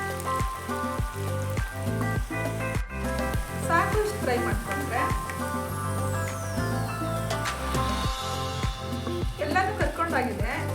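Cauliflower pieces for restaurant-style gobi manchurian deep-fry in a large pan of hot oil, giving a steady close bubbling sizzle with repeated rhythmic clinks from a utensil throughout.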